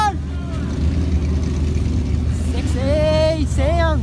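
Old car engines rev loudly at an outdoor car show in Mansfield, a steady deep rumble with rising revs, while people talk nearby throughout.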